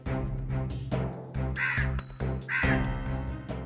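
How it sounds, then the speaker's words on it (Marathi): A crow caws repeatedly in a loud, harsh, close series of calls, several in quick succession with short gaps, heard alone without speech in a Marathi TV serial scene. "पण हा काक पक्षी माझ्याचकडे हेरून बघतोय."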